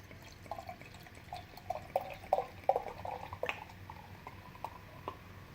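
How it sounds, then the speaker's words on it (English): Carbonated Holy Mountain Sunroom beer pours into a glass, giving a faint, irregular stream of bubbly crackles and small splashy pops that peak midway, then settle into a soft fizz. "that looked like it was really carbonated based on the hiss of it and just the way it poured"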